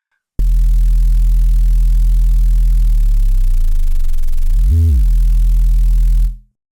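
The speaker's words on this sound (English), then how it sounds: "the first type of distortion is the one with the noise layering using erosion" A bass sine wave thickened by noise-layering distortion with erosion, a steady low hum with gritty noise on top that dips and wavers in pitch midway, then briefly rises before holding and cutting off.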